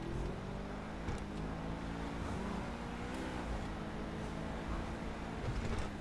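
A car driven in the video game GTA V, its engine holding a steady, moderately loud droning hum with slight shifts in pitch and no voices over it.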